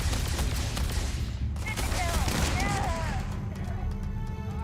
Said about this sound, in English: Remind me why we're using weapons that could put a hole in the hull?